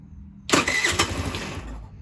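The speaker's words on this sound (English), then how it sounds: "Hit the starter button." Baja SC50 scooter engine cranks on the electric starter after a quiet moment, catches abruptly and settles into an uneven running idle, loud and close.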